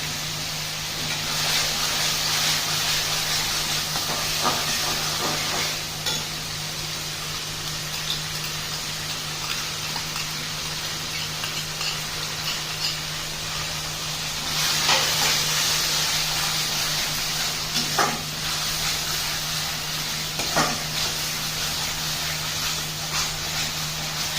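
Masala with cashew paste sautéing in oil for chicken korma, cooked on a medium flame. A steady hiss-like sizzle continues throughout, with a few brief louder bursts and a low hum underneath, and no talking.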